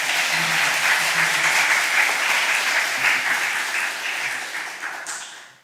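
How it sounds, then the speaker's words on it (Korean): A church congregation applauds during a pastor's installation service, warm dense clapping that holds steady and then fades out toward the end. "수고하셨다는 박수 한번 부탁드리겠습니다"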